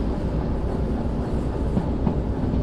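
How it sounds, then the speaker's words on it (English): Train braking in the railway simulator Derail Valley, a steady low rumble and rolling clatter of rail cars held at an even, fairly loud level throughout, with no talk. "Crazy train brake."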